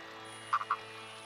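Male frogs call from their burrows in the brief seasonal mating window before the rains, a few short croaks grouped in a quick burst, moderately close and alone over quiet background hiss.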